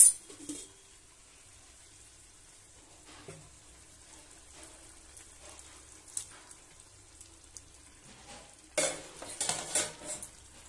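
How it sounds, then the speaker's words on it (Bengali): Paneer pieces go into spinach in a pan: faint utensil clinks and light stirring over a soft sizzle, ending in a louder burst of clattering and frying near the end, with no talking. "এরপর আমরা এর মধ্যে দেখো পনিরগুলো দিয়ে দেব।"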